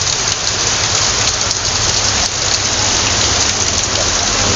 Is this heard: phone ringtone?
no